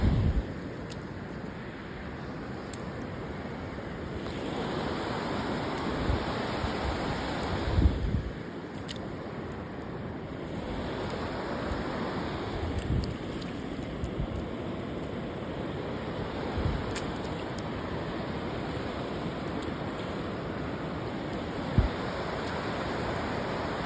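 Sea waves on a beach at Diveagar, a steady broad rush of surf rising and falling every few seconds, mixed with wind noise on the microphone and no voices.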